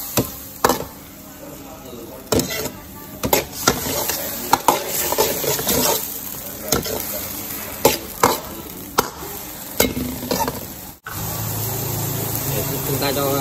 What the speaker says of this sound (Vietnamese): Chúng ta đảo đều. Cho thêm một ít nước vào nhé, để làm cho đầu ve nó chín đấy.